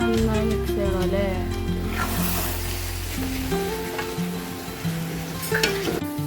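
Chicken curry with ground roasted coconut, coriander, chilli and turmeric masala is stirred and sizzles steadily in a pan, with a continuous scraping and frying noise under voices talking throughout.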